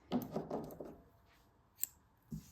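Scissors snip through crochet yarn while fastening off a colorwork stripe, a short close, quiet crunching cut followed by a lone sharp click and a soft thud.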